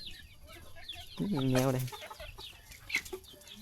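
Chickens in a pen cluck and squawk close by, a few sharp calls rising above a quiet barnyard, with a person speaking briefly over them.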